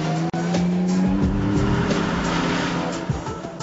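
A Mercedes-AMG CLK GTR, a carbon-bodied road car with motorsport roots and a six-speed racing gearbox, roars loudly and steadily under hard driving, its engine note sustained and close, with a brief dropout near the start.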